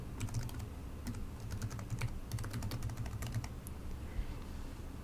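Rapid typing on a computer keyboard, a steady run of light, close clicks and taps with uneven rhythm and no talking.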